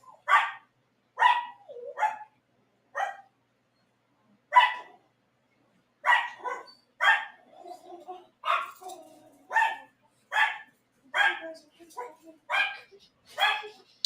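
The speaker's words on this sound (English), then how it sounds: "And we got dogs barking" Dogs barking repeatedly in irregular bursts, some sharp and some whiny, moderately close with brief pauses between barks.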